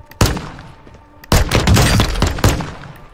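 Bursts of gunfire in a Call of Duty: Warzone match: a sharp shot, then a loud sustained volley of rapid shots, closing with another sharp crack, all close and without talk.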